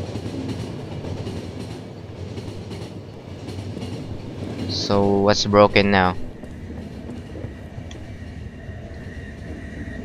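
Train rolling through an underground subway in the video game Final Station, a steady rumbling drone running the whole time, with a short burst of speech in the middle.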